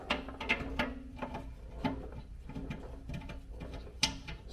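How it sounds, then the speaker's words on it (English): A ratchet clicks in short bursts while bolting a Ridgeback seat mount into a Jeep TJ, with close mechanical ticking and a few knocks from the parts. "And again, we make this so you just bolt it all right into place."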